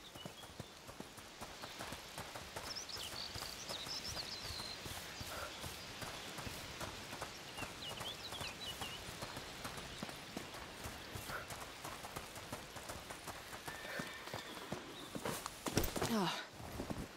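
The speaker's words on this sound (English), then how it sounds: "I'm hearing the horses." Horse hooves clip-clop steadily at a walking pace in the video game A Plague Tale: Requiem, soft and somewhat distant, continuing throughout, with a faint voice briefly near the end.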